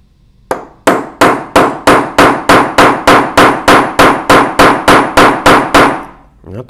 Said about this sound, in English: Maybe knock on it a little bit.